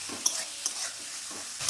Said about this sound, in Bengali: গরম তেলে চিংড়ি মাছ দিয়ে দিলাম।